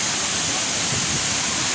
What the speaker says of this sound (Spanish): Estamos un poquito más cerca a la cascada.